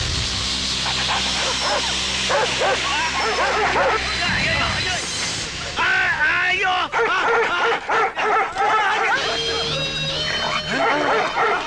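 Dogs barking, yipping and whimpering in a comedy film scene, repeated sharp barks mixed with dramatic music and voices.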